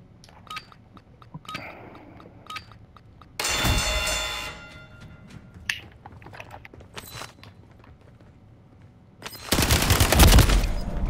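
Bursts of gunfire in the video game Warzone: two loud dense volleys, one around the middle and a longer one near the end, with scattered sharper clicks and shots between them.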